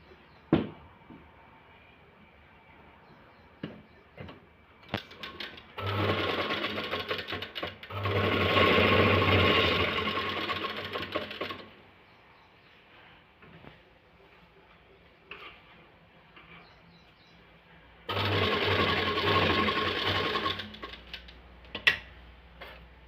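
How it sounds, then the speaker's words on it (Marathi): An electric sewing machine stitches blouse fabric in two steady whirring runs of several seconds each, with soft clicks and handling noises between them. "आपल्याला याला उलथून शिवून घ्यायचं आहे।"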